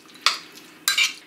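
Two quick wet stirring strokes of a utensil swishing through a chicken marinade with soy sauce and black pepper in a bowl, close and distinct with a short pause between.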